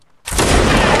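Musket volley in a Napoleonic Wars video game battle, a sudden loud crackling blast of many shots fired together that bursts in abruptly after a brief quiet moment.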